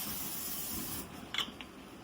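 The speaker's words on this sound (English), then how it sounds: "Sprayed it real quick with some non-stick cooking spray." Non-stick cooking spray hissing onto a grill on a covered porch: a steady close spray for about a second, then stopping, followed by a couple of faint clicks and small bursts.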